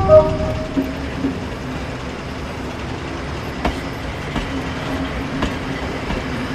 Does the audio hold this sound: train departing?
yes